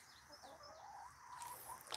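Chickens cluck and murmur faintly near a backyard coop, soft rising calls drifting at a distance against a quiet background.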